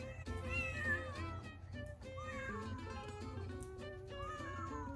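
A roughly six-month-old kitten meows repeatedly and insistently, with high plaintive cries close by and no voices.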